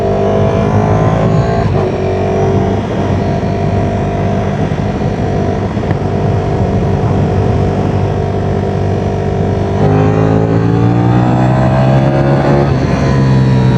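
Ducati Streetfighter V4 motorcycle engine under way, a loud steady roar with harmonic pitch sweeping up and down as the rider works the throttle, dipping and climbing again near the end, with steady wind rush throughout.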